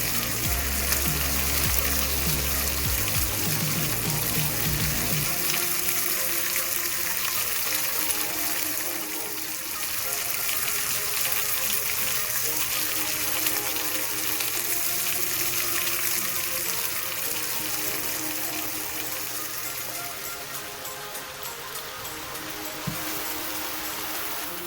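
Smoked sausage browns in a pan, making a steady, dense sizzling hiss that runs continuously with a low rumble early on.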